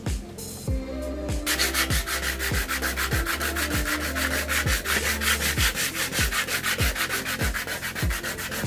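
Rhythmic back-and-forth rasp of a power sander working over a weathered wooden deck, loud and close with a steady low motor hum under repeated sweeping strokes.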